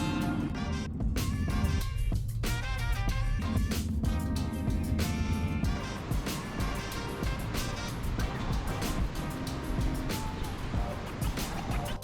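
A van driving through Colorado mountain roads near Crested Butte produces a loud, steady rumble of engine and road noise, with brief talk and clatter early on.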